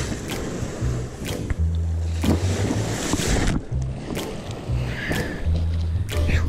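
Ocean waves surging and washing around a surf fisherman in a wetsuit, with loud gusty splashing and rolling surf that swells and breaks repeatedly, plus bumps and rustling close to the microphone.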